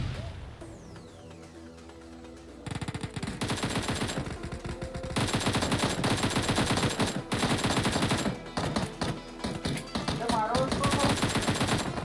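M16 rifle fire in a shooting video game, loud rapid automatic bursts that start after a quieter opening and then crackle densely and almost continuously to the end.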